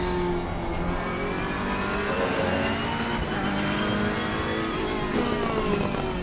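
Ferrari 488 Evo GT3 race car engine in Assetto Corsa Competizione at Imola, a loud sustained high-pitched roar rising and falling through revs, close and alone without talk.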